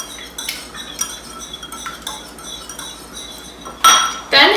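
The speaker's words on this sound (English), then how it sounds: "Now in a smaller bowl, mix your eggs and vanilla" A utensil clinks and scrapes against a small bowl while eggs and vanilla are mixed until smooth. The taps come in irregular bursts, with a couple of louder clatters near the end.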